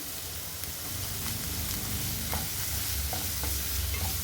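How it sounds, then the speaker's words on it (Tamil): Onions sauté with chili, curry leaves, chopped garlic and grated ginger in a pan, a continuous close sizzle with occasional light scrapes and taps of a spoon stirring. "வெங்காயம் நல்லா வதங்கட்டும்."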